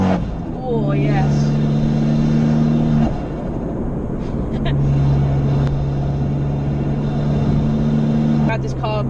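Modified, lowered Fiat Abarth with a TMC Motorsport sports catalytic exhaust, its engine droning and revving steadily from inside the car, with steady tonal harmonics that shift in pitch partway through.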